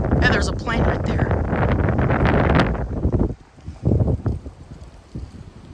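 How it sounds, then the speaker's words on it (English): Strong night wind gusts around thirty miles per hour in Frisco, Texas, roaring and buffeting the microphone heavily, then easing into choppier bursts. "But holy cow, these winds are blowing."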